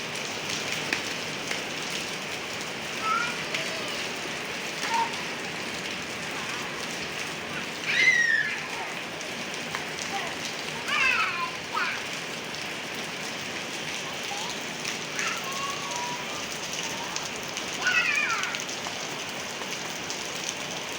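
Heavy rain falls steadily outdoors while children bathe in it, a continuous soft hiss with faint voices and brief whistle-like calls now and then.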